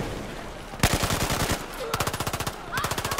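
Automatic gunfire in the video game Battlefield 4, one short burst followed by a longer rapid rattling burst and then another quick string of shots, loud and close.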